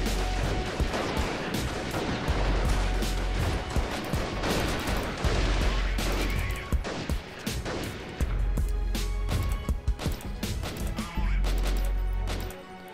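Rifle fire from the Freeman: Guerrilla Warfare video game, dense loud shots and bursts cracking continuously over a busy battle soundscape, with scattered heavier impacts throughout.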